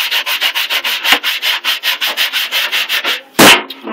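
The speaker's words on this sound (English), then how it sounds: "I'm scrubbing this pan." Baking soda scrubbed over a cookie sheet pan, close and loud, a fast rhythmic run of about twenty back-and-forth rasping strokes, then one heavier scrape at the end.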